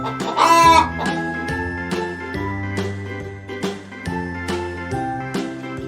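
A hen clucks in a series of short, sharp bursts over a steady tinkling musical backing, with a brief squawk near the start.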